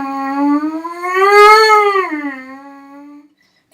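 A trumpet player's lip buzz glides up in pitch and then slides back down like a siren, one continuous close tone with no other sound around it.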